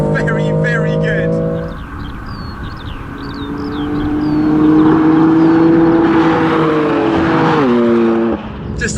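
A BMW M3 CS engine drones and climbs in pitch as it accelerates through the gears while driving, heard from inside the car, with a voice talking over it.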